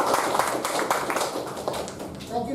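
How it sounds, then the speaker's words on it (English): Meeting attendees give a round of applause, a brisk patter of clapping hands from a small group, fairly close and fading toward the end. "let's all make a round of applause"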